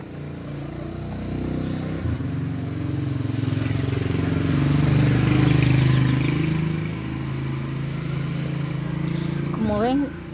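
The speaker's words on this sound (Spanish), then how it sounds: "el medio de transporte de las personas es una motocicleta, porque es más económica" A motorcycle, the usual cheap transport in a Mexican village, passes along a local road with a steady engine drone that swells mid-clip and fades, under people talking.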